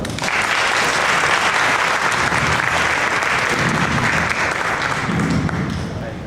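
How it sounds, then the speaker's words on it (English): An audience at a youth Toastmasters leadership program event gives a dense, sustained round of applause, loud and continuous throughout before easing slightly at the very end. "Please give him a huge round of applause."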